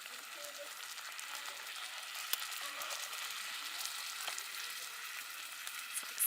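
Hot dogs sizzle in a pot over a campfire on a rainy camping trip, a steady close crackling hiss with faint pops throughout, no one speaking.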